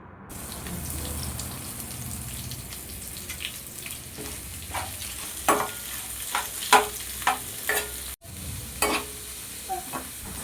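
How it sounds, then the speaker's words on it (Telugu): Chopped onions drop into a pan of fried whole spices, including cinnamon, and sizzle close by, broken by a series of sharp scraping stirs and a short pause, with no talking. "పోపు దినుసులు ఫ్రై అయిన తర్వాత కట్ చేసి పెట్టుకుని ఉల్లిపాయ ముక్కలు వేయాలి"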